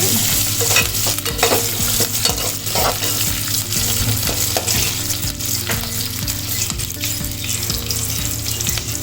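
Onions sauté in a pan for a Saala fish kuzhambu, producing a continuous close sizzle with repeated scraping and stirring knocks and a low steady hum beneath.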